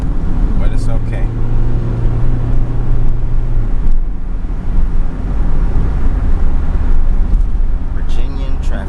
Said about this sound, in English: Yeah, this is the Virginia traffic.